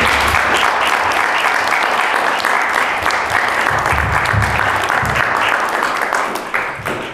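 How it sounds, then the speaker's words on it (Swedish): Sustained audience applause at a church lecture in a Sigtuna parish, dense steady clapping that fills the room for several seconds before tapering slightly at the end, with no talk over it. "Jag tycker vi bryter protokollet och hälsa Bo med en applåd."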